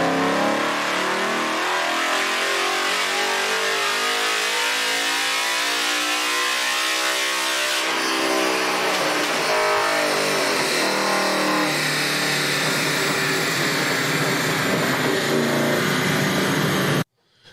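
A naturally aspirated Ford Coyote V8 in a GT500-style drag car revs loudly and close by, the engine note rising and falling through sustained high-rpm pulls with a brief drop in the middle before cutting off abruptly.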